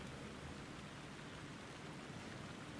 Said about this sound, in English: So this way you can feel the rain.